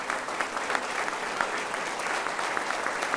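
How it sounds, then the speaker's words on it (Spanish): A crowd at a verseadores folk poetry event in Valsequillo claps in steady applause, a dense patter of many hands at moderate distance, lasting the whole few seconds. "Le vamos a dar un fuerte aplauso también."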